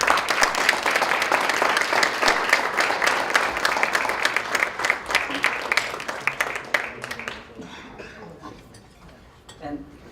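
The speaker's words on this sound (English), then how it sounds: "let's give a round of applause for Dr. Steinberg." A round of applause from the audience at a media literacy conference keynote, loud, crowded clapping that holds steady for several seconds before thinning out and fading into scattered claps and room noise.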